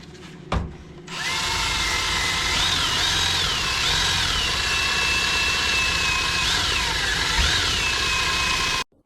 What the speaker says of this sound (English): start getting the wire brush onto it. Get all that coating off it